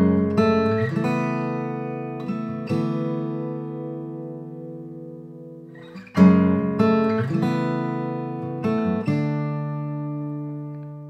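Guitar with a capo strummed through a chord progression, each chord struck clearly and left to ring, with a sharper restrike midway, played solo and close.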